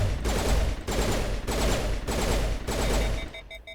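Pistol fire in the Mass Effect game, a rapid volley of loud, close shots in short bursts with brief gaps between them, ending in a ringing electronic tone.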